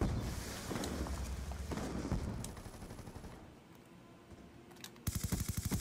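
Rapid gunfire from a video game shooter, with quick bursts of shots in dense, rattling runs, fading lower mid-clip before a loud, sharp volley returns at the end.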